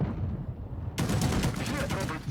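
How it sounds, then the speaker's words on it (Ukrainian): Tank machine-gun fire from the FV Defender in a tank video game bursts in suddenly after a brief quieter moment, a loud, dense rapid rattle of shots close at hand. "це що за кулемет?"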